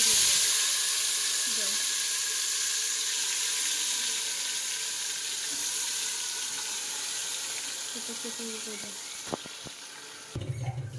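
Chicken frying in hot oil in an aluminium pot, a loud continuous hiss of sizzling that fades slightly over time, close by, with a few clinks and handling sounds near the end.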